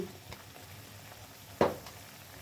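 Spices with turmeric, chili and salt fry in a pan for leafy greens, giving a quiet, low sizzle with one sharp scrape or clatter near the end.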